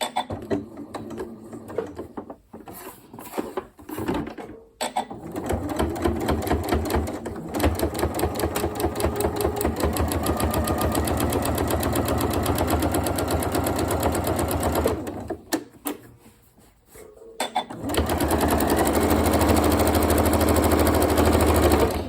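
Sewing machine stitching through felt and a cotton cushion cover with a doubled, overlapped backing, running in loud continuous bursts that stop briefly near the start and again mid-way before resuming.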